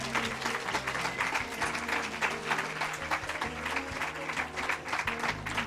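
An audience claps for a camp commander at a Yogi Bhajan gathering, dense sustained applause from a sizable crowd, close and steady for several seconds with no voices over it.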